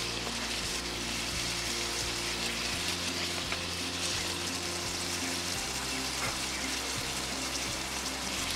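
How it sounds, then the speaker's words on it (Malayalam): Chicken pieces dropped into a generous amount of hot oil for chilli chicken, giving a loud, continuous, dense sizzle that runs unbroken throughout. "ചൂടാകുമ്പോൾ നമ്മൾ എടുത്ത് വെച്ചിരിക്കുന്ന ചിക്കൻ അതിലേക്ക് ഇടണം"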